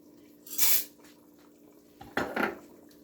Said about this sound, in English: So I'm gonna just put the pasta in.